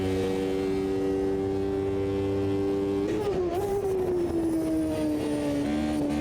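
Engine of a classic F1 racing car in a time-trial video game at Hockenheim: a steady, buzzing harmonic drone that jumps in pitch about halfway through, then slowly sags, loud and continuous, with no talk.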